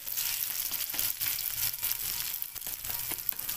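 An egg fries in a hot pan with a steady, bright hiss and fine crackling that runs without pause from start to finish, close and fairly loud.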